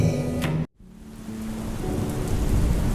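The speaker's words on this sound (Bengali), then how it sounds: "উফ, যা বৃষ্টি নামলো!" Steady heavy rain with a rumbling thunder roll fills the scene after a brief drop to silence, loud and continuous, as a sound effect for a Bengali ghost story audio drama.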